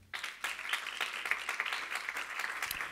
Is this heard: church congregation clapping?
yes